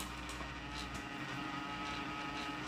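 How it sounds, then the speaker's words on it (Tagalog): A noisy computer hard drive vibrates with a constant, dense droning hum and rattle, steady and close with no pauses over a few seconds. "Ingay ng hard drive niya."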